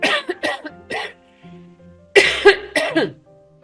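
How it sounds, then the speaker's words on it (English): Several sharp coughs in quick bursts, a cluster of three, then a pause, then two or three more harsh coughs, close and fairly loud. "I may still cough now and again"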